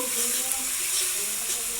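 Ginger and garlic frying in a pan over a low flame, with a steady close hiss and light scraping as the mixture is turned, filling the whole short stretch without voices.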